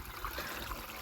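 Irrigation water flows into a rice field being prepared for seedlings, a steady rushing trickle and splash with no pauses, close and continuous.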